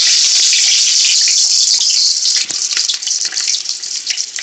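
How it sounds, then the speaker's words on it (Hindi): Onions tipped into hot oil for a wedding-style biryani set off a loud, steady, hissing sizzle that keeps going throughout, close up and without any voice. "देखिए, तेल गर्म हो चुका है, उसमें डाल देंगे सबसे पहले प्याज।"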